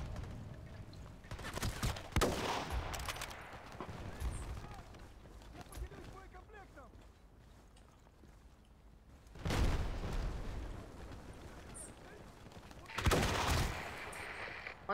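Bursts of video game gunfire in a tactical shooter match, with loud volleys clustered near the start, around the middle and toward the end, heard under voices of players talking over team chat.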